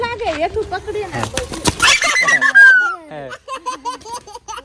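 A quick flurry of a sick pigeon's wing flapping bursts out amid excited voices and laughter, fairly close and loud.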